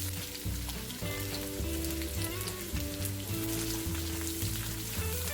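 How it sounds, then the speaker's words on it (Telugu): Sliced onions fry in hot oil with whole spices and bay leaves, a steady loud sizzle running throughout with soft stirring scrapes, no voices. "ఉల్లిపాయ ముక్కల్ని బాగా ఎర్రగా వేపుకున్నాక"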